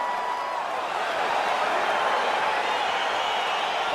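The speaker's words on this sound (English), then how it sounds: "crowd getting excited as this fight gets underway" Video game crowd noise from EA Sports UFC 4 ahead of a Bruce Lee vs Dan Hardy bout: a steady, dense arena roar of many voices that holds evenly for the whole stretch, with no single voice standing out.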